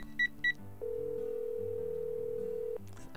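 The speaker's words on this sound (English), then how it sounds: "I want you to block your number and call his phone." A video game telephone dials out with two short keypad tones, then a long steady ringback tone holds for about two seconds before cutting off, clear and close with no talk over it.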